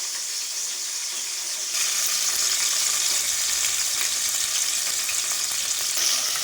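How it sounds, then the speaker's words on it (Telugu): Thinly sliced onion and green chillies hit hot oil for a fish curry, and a sudden steady sizzle begins after a quiet moment and then continues evenly and close at hand. "సన్నగా కట్ చేసి పెట్టుకున్న పెద్ద ఎర్రగడ్డ 1, ఇది ఎర్రగా వేగాలి"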